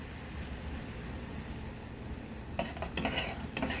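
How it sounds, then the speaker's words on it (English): Nuka-Cola syrup heats in a pot, a low rumbling bubble underneath until a few sharp clinks and scrapes of stirring break in near the end, close and without voices. "the syrup is now at a boil"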